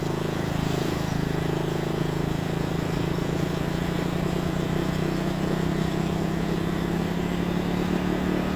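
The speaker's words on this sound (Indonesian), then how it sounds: "Suara mesin kendaraan yang kadang terdengar nyaring ketika melaju cepat atau melintas di tikungan" Vehicle engines hum steadily as traffic passes on the mountain road between Bireuen and Aceh Tengah, with a continuous, fairly loud drone of passing cars and motorbikes and no speech.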